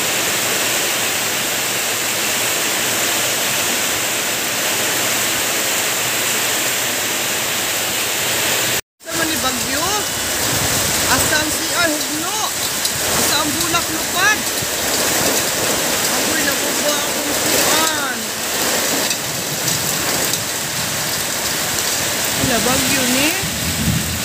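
Heavy typhoon rain pours down with strong wind in a steady, loud roar that cuts out briefly partway through, while voices talk over it.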